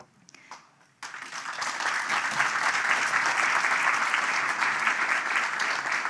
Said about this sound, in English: I thought that deserved a round of applause